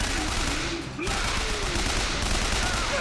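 Sustained gunfire in BioShock Infinite's 1999 Mode as an enemy lobs grenades, a loud continuous rattle of shots with a brief dip before the barrage surges back and carries on.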